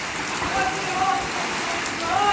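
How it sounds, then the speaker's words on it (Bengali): Heavy rain pelts a Dhaka street in a loud, unbroken downpour, a thick steady hiss of drops striking the surface close by. "প্রচুর বৃষ্টি হয়েছে"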